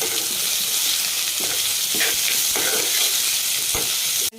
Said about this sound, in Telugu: ఉల్లిపాయలు దోరగా వేగాక మనం కాకరకాయ ముక్కలు పోసి తిప్పుదామండి